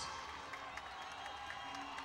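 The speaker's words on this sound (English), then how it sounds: "Clap your hands, stamp your feet." Stadium spectators at a national outdoor track meet cheer and clap for a runner in a girls' two-mile race, a distant, continuous crowd roar with scattered claps and shouts.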